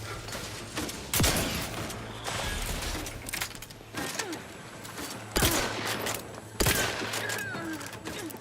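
Shotgun blasts from a sci-fi first-person game, loaded with five shells: several sharp, loud booms spaced a few seconds apart, each followed by clattering mechanical reload noise.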